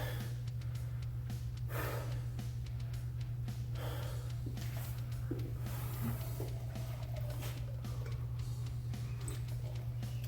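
Heavy, gasping breaths follow a kettlebell lift of about 190 pounds in a gym. The panting carries on steadily over a constant low electrical hum.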